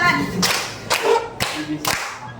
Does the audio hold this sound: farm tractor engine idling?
no